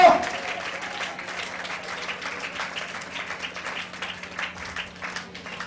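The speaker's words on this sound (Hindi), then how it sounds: "कम ऑन ताली बजाकर बोलो, मुझे नौकरी मिल गई, धन्यवाद।" A church congregation at a Hindi Christian service claps together in a dense, continuous patter that holds steady for several seconds, fairly loud and filling the room.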